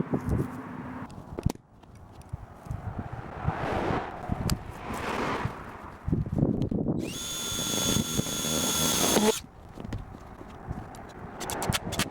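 A power drill bores holes in a plastic tote lid for rivets, a single whining burst of about two seconds rising out of handling clatter and shuffling.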